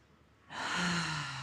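A deep breath drawn in through the nose during a sunset yoga flow, starting after a quiet pause and swelling into a long, steady airy rush that holds to the end, close and clear with no talking.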